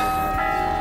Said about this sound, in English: They have five when you need eight bells, so they miss notes.